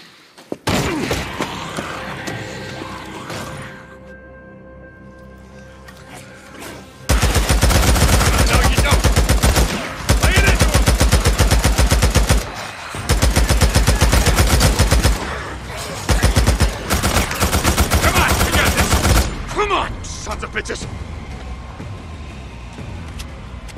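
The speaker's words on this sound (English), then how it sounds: "Just keep up a steady stream of fire, all right?" Sustained automatic gunfire in the video game Days Gone, loud and continuous for long stretches with a few short breaks, after quieter game ambience at the start.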